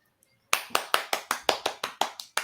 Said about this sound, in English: So y'all should be continuing to clap your hands.